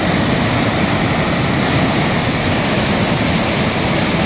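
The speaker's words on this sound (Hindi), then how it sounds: "देखो बहुत तेज़ी से आता हुआ पानी।" Fast water surges through the Chambal canal project, which runs through a tunnel, making a loud, continuous, close-up rush that holds steady throughout.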